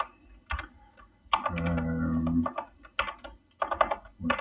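Quick bursts of typing on a computer keyboard, entering a message and deleting characters while making hyperlinks in a PDF from an Excel file; close, uneven clusters of key clicks with short pauses between.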